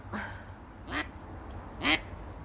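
Two loud wild duck quacks ring out about a second apart over a low background hum, with a fainter quack at the start.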